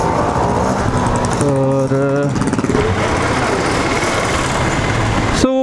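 A motorcycle ridden on a road around Udhampur, its engine droning steadily and up close throughout, with a few tonal, horn-like notes partway through and a person talking over the ride.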